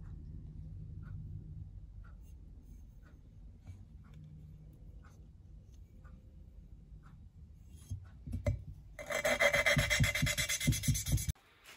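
An engine valve is lapped into its seat by hand with grinding paste, soft rhythmic rasping strokes that grow louder and harsher near the end, with no talk.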